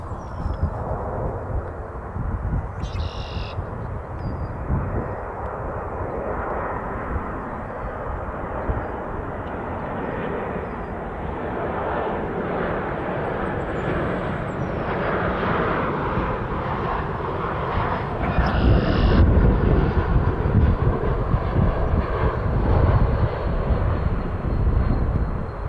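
An airliner on approach at Toronto Pearson airport gives a steady, broad engine roar that swells louder near the end as it passes closer, with no voices.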